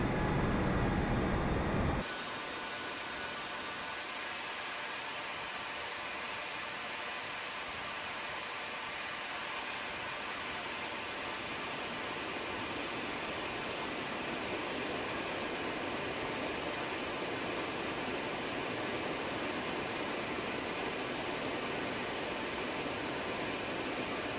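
Airbus A320 jet engines taxiing in a flight simulator game, a loud steady broadband roar and whine that holds constant throughout after a brief different opening.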